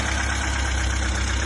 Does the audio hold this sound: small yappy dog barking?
no